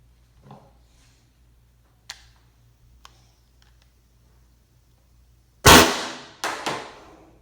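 An Umarex T4e HDP 50 pistol on CO2 gives two sharp close shots a moment apart, each with a brief decaying tail, after a few faint clicks of handling.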